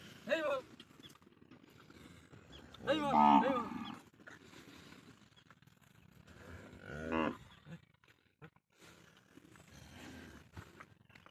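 Cattle low in an area packed with cows near the Bangladesh–India border, several drawn-out moos from close by separated by quieter gaps, with people talking now and then.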